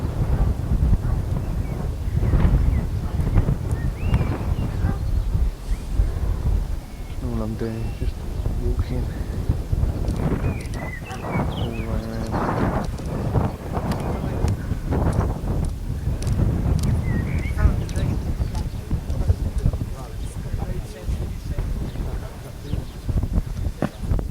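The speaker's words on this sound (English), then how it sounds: "Ooh, a bit windy." Strong gusts buffet the microphone in a constant roar, with a voice talking briefly over the blustery noise.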